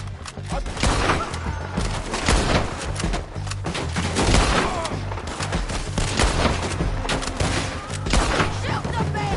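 Dense gunfire in a PS4 shooter, with rapid bursts and volleys layered through the whole stretch, loud and close, while voices shout over the shooting.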